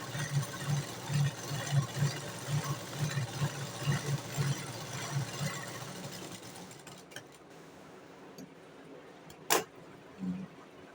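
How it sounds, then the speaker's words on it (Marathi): A sewing machine runs a steady, rhythmic stitch along the side seam of a V-neck blouse for about six seconds, then stops, leaving faint clicks and handling noises. "कमरेकडच्या साईडला मी अर्ध्या इंचावरती शिलाई मारून घेते फिनिशिंगसाठी"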